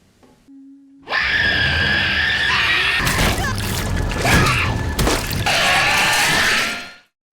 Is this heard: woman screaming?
yes